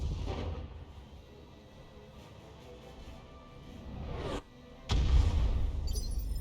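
A Thumper artillery strike in the mech combat game BattleTech: a quiet low rumble gives way to a sudden heavy boom near the end, loud and close, with no talking.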